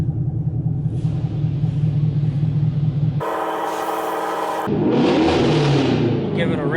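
Chevrolet Camaro ZL1 engine revving at a car wash: a steady rumbling idle that jumps into a loud, rising rev and then settles into a roaring, throaty drone.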